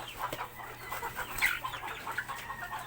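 Backyard pet chickens cluck in short, irregular bursts close by, with a bird's brighter call rising briefly near the middle over a steady low hum.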